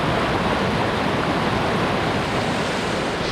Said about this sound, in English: It's very small streams.